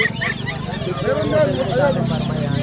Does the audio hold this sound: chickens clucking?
yes